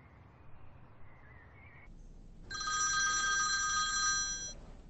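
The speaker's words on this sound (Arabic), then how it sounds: "رح اتصل بعاشي." A telephone rings in a tense scene as a call is placed: after a quiet hiss, a single bright, trilling electronic ring sounds loudly for about two seconds and then stops, with no talk over it.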